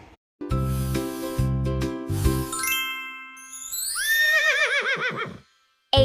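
A horse whinnies loudly with a long shaking neigh that rises and wavers, following a stretch of chiming dings and tinkling musical tones in a bright children's alphabet setting.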